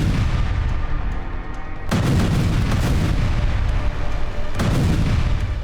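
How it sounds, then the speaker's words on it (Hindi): Explosion destroying a Hezbollah training base building in southern Lebanon, two heavy booming blasts about three seconds apart over a continuous loud rumble, with no voices. "लेकिन आईडीएफ की इन्फेंट्री बटालियन ने इसे एक ही धमाके में खाक में मिला दिया।"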